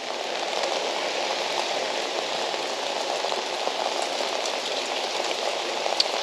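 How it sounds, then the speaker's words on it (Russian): Steady rain falls on a street in Crimea after a storm, a dense, even hiss of drops spread evenly throughout, close and moderately loud, with no talking. "мне нравится вот так бродить во время дождика"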